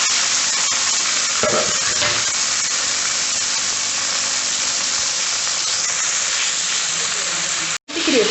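Agathi keerai leaves sizzle and hiss in a hot pan while being stirred, a loud, steady frying crackle with occasional scraping of the spatula, close up and continuous before a brief cut near the end.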